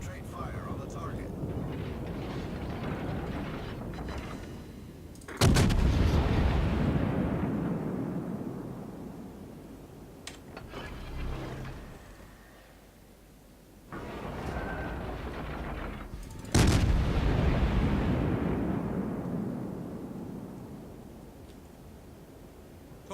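Naval guns fire during a sea battle in a video game, with two loud heavy blasts, each followed by a long rumbling decay, over a continuous background of game noise and engine hum.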